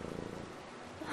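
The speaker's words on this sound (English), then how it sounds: "you're purring" A video game character purring in Brothers: A Tale of Two Sons, a soft, steady low rumble that runs quietly through the whole moment, with a faint rise at the very end.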